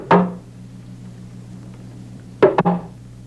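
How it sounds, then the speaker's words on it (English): African talking drum struck at high and low pitches, a single beat followed after a pause by a quick cluster of three strikes, close and clear over a low steady hum. "It can also be said by a drum that can beat both high and low sounds."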